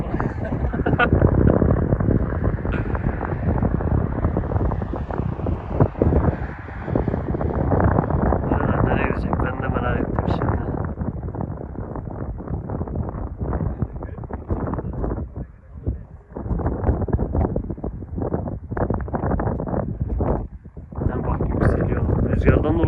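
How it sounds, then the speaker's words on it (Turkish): Strong wind buffets the microphone in loud, continuous rumbling gusts, with brief lulls and occasional voices underneath. "Baya bir rüzgar var"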